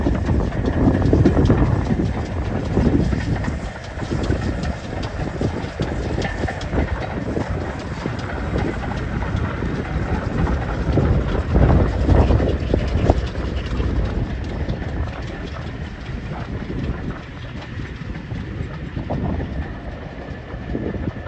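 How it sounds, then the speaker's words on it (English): A train rumbling past on a railway track in the Cotswolds countryside in blowy, wet weather, a loud, close, continuous roar with rhythmic clickety-clack of wheels running steadily throughout. "the train's just been through"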